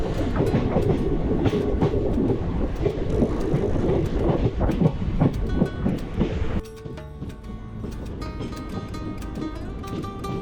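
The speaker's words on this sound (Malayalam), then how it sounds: "നമ്മളതാ ഒറ്റപ്പാലം റെയിൽവേ സ്റ്റേഷനിലേക്ക് കയറി കേട്ടോ" A train rumbles loudly nearby with rhythmic clattering of wheels as it enters Ottapalam railway station, then the roar eases to a quieter, steadier hum as it slows.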